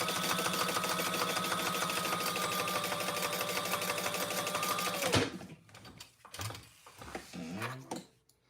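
A sewing machine runs steadily while top stitching a trifold wallet, a loud, even mechanical whir for about five seconds, then stopping abruptly, followed by quieter handling sounds and a brief voice.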